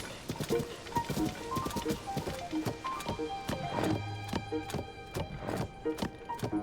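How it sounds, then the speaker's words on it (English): Horse hooves clip-clop in a steady, fairly quick rhythm as a mount is ridden in the video game Zelda: Tears of the Kingdom during a blizzard at Rito Village, set against game music and ambience with a brief whinny-like tone. "I don't really like using horses because they're kind of hard to control sometimes"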